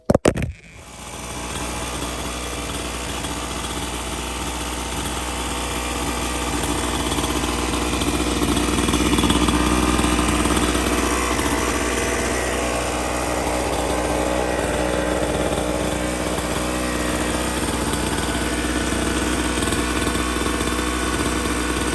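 A small x3 pocket bike engine, freshly fitted with a rebuilt carburetor, sputters to life and keeps running in a constant buzzing drone, close and loud, with a slight rise in revs midway before settling back.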